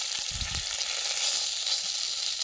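Chicken for momos fries lightly in a little oil, a steady close hiss and crackle with a couple of low thumps near the start, no talking.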